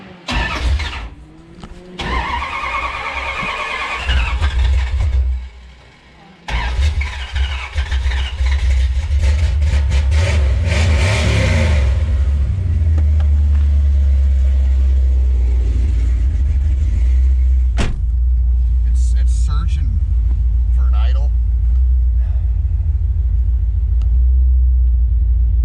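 A 1973 Dodge Dart four-door with a rebuilt LA 360 V8 rumbles loudly and steadily close by as the car is driven, the engine note swelling and settling over the whole stretch with no talk.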